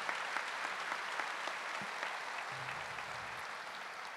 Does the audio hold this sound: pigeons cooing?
no